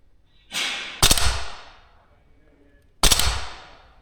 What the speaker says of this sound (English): So shoot at the backboard first.